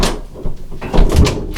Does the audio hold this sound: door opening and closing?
yes